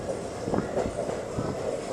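A passenger train runs from Bengaluru toward Kabbalu, heard from inside a coach as a continuous rumbling roll with rhythmic wheel clacks over the rail joints.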